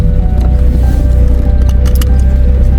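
A car fords Crooked River at a rough river crossing on a 4WD track, with a continuous loud low rumble and splashing, sloshing water close by and no talking.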